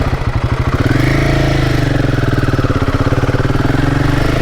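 A Royal Enfield Himalayan 450 motorcycle engine idles close by, a steady pulsing thump that revs up briefly at the start and then settles into an even, loud throb.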